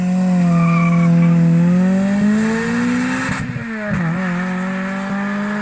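A seventh-generation Toyota Celica with a 2ZZ-GE engine revving loudly, the note rising steadily before a sharp shift drop and renewed climb, with tire squeal mixed in near the shift, close and without voices.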